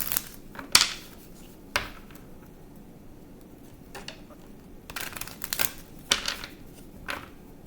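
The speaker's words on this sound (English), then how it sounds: "I'm going to shuffle." Scattered crisp riffles and papery snaps of cards being shuffled, in short bursts with quiet gaps, close by and fairly soft.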